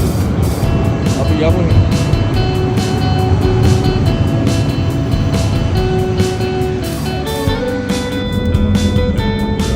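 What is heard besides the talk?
metro tram arriving in Jerusalem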